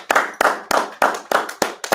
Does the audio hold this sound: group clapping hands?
yes